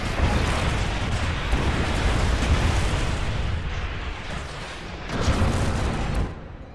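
Flak cannons in Planetary Annihilation keep up a dense, rumbling barrage of booms that blend into a continuous roar, with a louder burst near the end, no speech.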